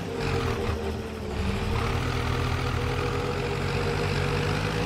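A Fiat tractor engine in a farming roleplay video game idles and rumbles steadily at close range, loud and continuous with no talk over it.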